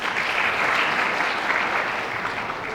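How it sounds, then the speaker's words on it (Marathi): An audience at a school felicitation ceremony applauds a student who reached state-level sports, giving a dense, steady round of clapping that fills the room for a few seconds. "तिच्यासाठी आपण टाळ्या वाजवल्या पाहिजे."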